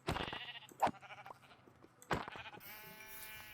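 Sheep in Minecraft bleat several times in short bursts, mixed with other game sound effects and a brighter tone near the end.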